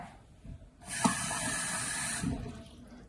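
Hot and cold water poured from a tap into a glass, a steady hissing stream lasting over a second after a brief quiet start, then tapering away, close and moderately loud with no voices.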